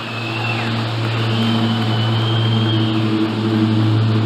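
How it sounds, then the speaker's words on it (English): An airplane droning overhead during an outdoor Tesla Semi truck presentation, a steady engine roar with sustained tones that swells slightly as it passes, with no voices. "wait for that plane."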